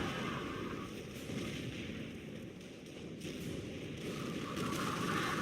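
Dense, continuous rumble of artillery fire and explosions in a 4v4 Company of Heroes match, steady and loud throughout with no clear pauses.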